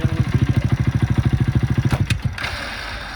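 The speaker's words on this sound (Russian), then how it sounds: "Офигенно, включаешь первую передачу, а он просто глохнет." An old childhood motorcycle engine chugs loudly and close in first gear with a fast, steady pulsing beat, then sputters and cuts out into quiet.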